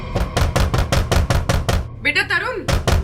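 Steady rapid knocking on a door from a domestic scene in a Hindi crime drama, a run of sharp, evenly spaced raps broken by a brief voice before the knocking resumes.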